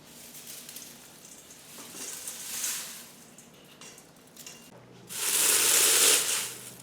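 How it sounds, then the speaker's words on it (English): Dry curry leaves crushed by hand in a bowl give a crisp, close crackling rustle that swells and fades, ending in a louder burst of crunching. "put this into a bowl and crunch it by hand"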